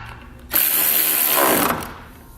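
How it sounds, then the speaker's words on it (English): A ratchet with a 10mm socket spins a bolt tight on a pickup truck tailgate assist, one steady, close, buzzing run of clicks lasting about a second. "we'll use a 10mm socket to tighten up the bottom bolt"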